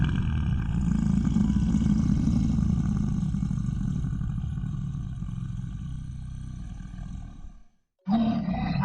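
A creature roars loud and long with deep rumbling growls, fading after several seconds, then a short pause before another roar bursts in, set in a scary forest story scene.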